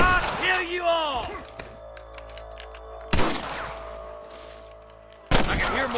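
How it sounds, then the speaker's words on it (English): Gunshots in the Red Dead Redemption video game ring out as a few sharp separate blasts spaced seconds apart, with a voice speaking briefly at the start and a faint background score. "I can hear more gunshots."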